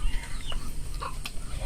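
Soft, scattered clucking from hens nearby, short irregular calls over a low rumbling background.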